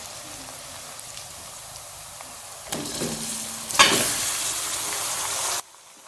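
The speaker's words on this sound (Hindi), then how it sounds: "अब इसको हम हल्का से भून लेंगे।" Chicken pieces fry in oil in a karahi with a soft steady sizzle, then a louder burst of hissing and stirring scrapes midway before the sound cuts off abruptly.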